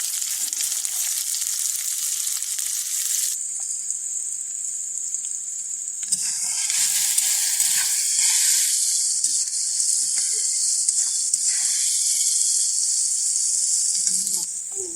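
Chopped onions and whole garlic cloves frying in oil until brown, a loud hissing sizzle that surges and settles as they are stirred, with occasional light scraping.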